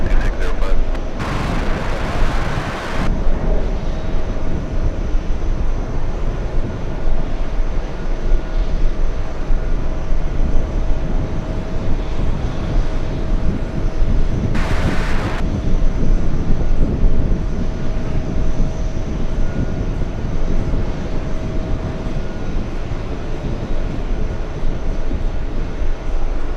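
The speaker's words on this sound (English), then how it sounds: "Alright, Lufthansa on the roll." A Lufthansa airliner rolls for takeoff at JFK airport with a loud, sustained jet engine roar that holds steady throughout, with a radio voice heard briefly over it.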